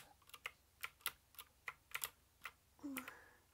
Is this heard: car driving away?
no